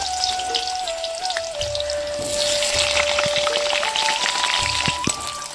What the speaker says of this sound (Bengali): এদিকে আলুটা ভাজা হয়ে থাক